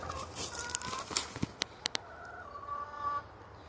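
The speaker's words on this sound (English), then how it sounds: "the chickens have started laying" Backyard laying hens give soft, intermittent clucks and calls inside the coop, moderately close, with a few sharp clicks or knocks partway through; no one talks.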